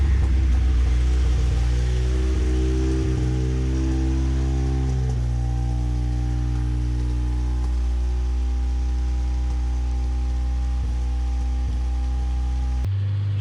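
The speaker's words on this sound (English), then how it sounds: "She idles funny, and she's a little clackety because she's got some great big cams in there." Old car engine with big cams idling loud and close, a lumpy rumbling drone with a steady uneven beat that runs throughout and cuts off at the end.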